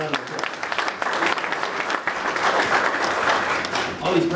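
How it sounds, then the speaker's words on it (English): A room of attendees at a morning chamber of commerce business breakfast applauds warmly, with steady sustained clapping throughout and voices mixed in under the applause. "Please a round of applause."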